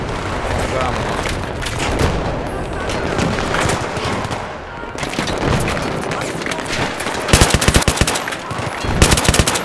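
Gunfire in the video game Battlefield 3, with continuous bursts of automatic weapon fire and scattered shots, loud and dense throughout, and people talking over the shooting.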